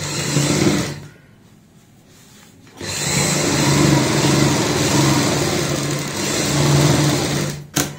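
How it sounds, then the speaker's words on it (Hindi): Sewing machine stitching the side of a handmade travel bag, running in a loud steady whir, pausing briefly, then resuming for a long continuous stretch before stopping. "अब हम इस साइड की सिलाई लगाएंगे"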